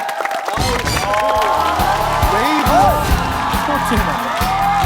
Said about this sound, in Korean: 다시 한번 두 분에게 뜨거운 박수 부탁드립니다